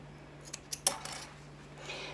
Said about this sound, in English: And snip those threads.